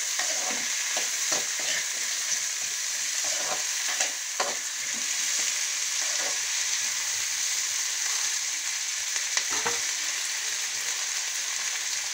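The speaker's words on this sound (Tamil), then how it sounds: "சாம்பார் வெங்காயம், முருங்கைக்காய், அவரைக்காய், கத்திரிக்காய் நாலுக்குமே சேர்த்து ஒன்றா போட்டு வதக்குங்க." Sambar onions, drumsticks, broad beans and brinjal sauté in hot oil in a pan, giving a steady close sizzle and crackle with scattered stirring scrapes throughout.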